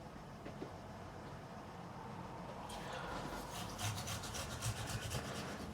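Cloth rubbing naphtha into a guitar fingerboard to lift oil and grease, a soft steady scrubbing that grows louder and more textured halfway through, with brisk repeated strokes close to the mic.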